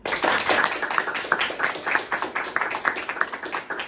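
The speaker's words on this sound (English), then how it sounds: "Let's give a round of applause to Karla Guilfú" A round of applause greets Karla Guilfú, Miss Universe Puerto Rico, on a podcast set: sparse, uneven clapping from a small group, with distinct individual claps pulsing steadily throughout and no talk over it.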